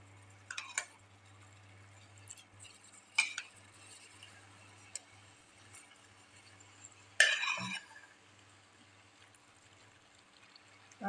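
Cooked vegetables are tipped into a pot of bisibelebath and stirred in, making three separate bursts of wet plopping and scraping against the pot with quiet gaps between them.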